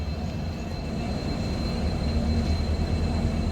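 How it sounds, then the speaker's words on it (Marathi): A steady low rumble of the Konkan Kanya Express departing with a second locomotive attached, continuous rolling noise and a faint high whine, close by and fairly loud throughout. "आता दुसरं इंजिन लावून ट्रेन रवाना होत आहे"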